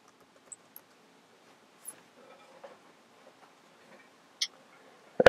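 Faint, sparse key taps on a Mac keyboard while an administrator password is typed, scattered soft clicks with quiet gaps and a sharper keystroke near the end.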